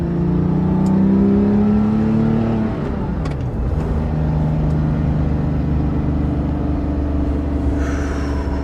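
A Porsche 997.2 GT3 RS engine drones steadily, its pitch sliding down as the driver shifts, then settles into a deep, even rumble from inside the car with no talk.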